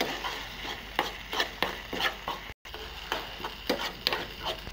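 Spices get stirred through Maggi noodles in a pan, a quiet run of rhythmic scraping strokes with light clinks of the utensil, close and alone.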